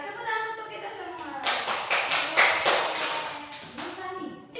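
A primary-school mathematics class claps together, a burst of many small hands in quick irregular rhythm that swells and fades, with a teacher and children talking before and after the applause.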